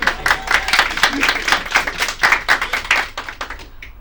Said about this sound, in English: Please clap, they need this.